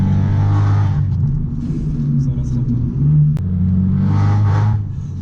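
Abarth 500 Stage 2 tuned hatchback engine roaring close up under load, dipping briefly at shifts between gears with a short click, then pulling again steadily.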